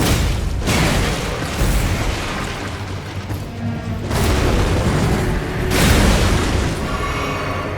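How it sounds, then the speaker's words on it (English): Heavy, booming blasts from Elemer of the Briar's explosion attack in the Elden Ring boss fight, loud rumbling surges repeating several times across the clip with no voices. "See, and like that explosion"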